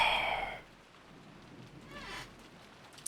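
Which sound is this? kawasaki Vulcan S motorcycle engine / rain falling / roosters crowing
rain falling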